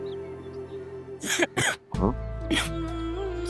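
Two sharp throat-clearing coughs, then a third rougher cough a moment later, heard close against a steady low hum.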